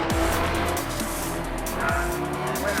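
A Porsche GT3 Cup race car sweeps through Clark Curve at Brands Hatch, its engine loud and steady with sharp downshift drops and rising revs, tire noise and wind underneath.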